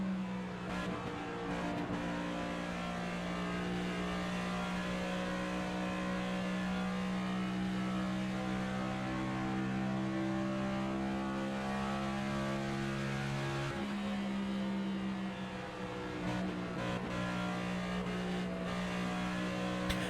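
In-car view of a NASCAR stock car in the NASCAR 25 video game, its engine droning at steady high revs with a brief drop and recovery midway, loud and continuous without talk.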